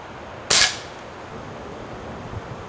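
A single sharp gunshot cracks close by as someone fires at a bottle, its report decaying quickly into quiet outdoor background.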